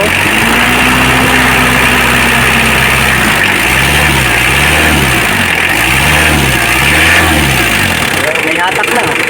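A loud nearby Mitsubishi Adventure diesel engine, just fitted with a new timing belt set, idles, then revs up and down in repeated surges, its pitch rising and falling in a rhythmic pattern.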